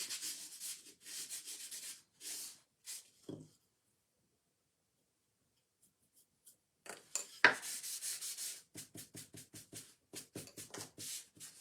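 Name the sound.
rubbing wax onto paper edges of a craft project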